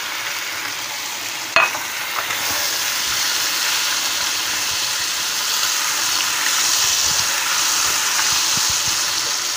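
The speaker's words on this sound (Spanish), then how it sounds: "ahora vamos a echar la cebolla aquí en este aceite" Chopped onion sizzles steadily in hot oil, a close, continuous frying hiss with a brief clatter near the start as it drops into the pan, then crackling bubbling throughout with no voices.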